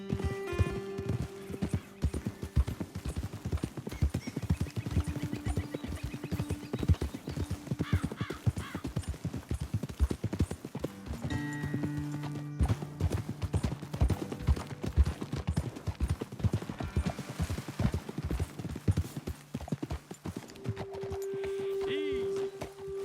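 Steady clip-clop of horse hooves walking throughout in Red Dead Redemption, with occasional whinnies and people talking over the rhythmic footsteps.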